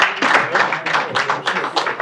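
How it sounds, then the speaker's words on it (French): Applause at a press conference, a brief dense burst of clapping from the room, fairly loud and close, with voices mixed into it. "un applaudissement pour la"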